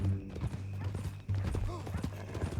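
Horse hooves clip-clop at a steady walking pace in Red Dead Redemption 2, mid-distance under a low droning background, with a voice speaking over part of it.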